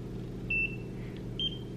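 A Nira handheld skin laser device used around the eye gives two short, high electronic beeps about a second apart, faint over a low steady hum.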